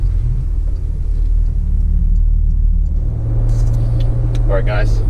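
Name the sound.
Porsche Macan GTS engine while slowing down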